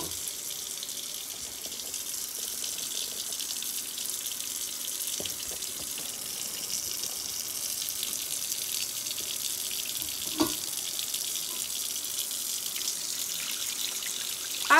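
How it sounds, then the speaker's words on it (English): Soaking water drained from a pot of pinto beans pours steadily in a continuous hiss, with a couple of brief clanks partway through and near the end. "I'm gonna drain off this water, most of it."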